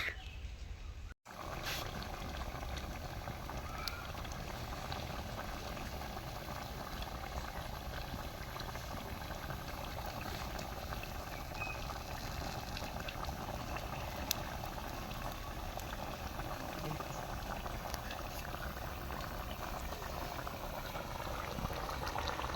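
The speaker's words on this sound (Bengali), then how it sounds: "তো বলকটা উঠে গেছে, এখন ঢাকনা দিয়ে ঢেকে কিছুক্ষণ জাল করে নেবে।" A pot of chicken-feet curry boils steadily, its soft, constant bubbling rolling on without a break for over twenty seconds. The sound is faint and close, with no talking.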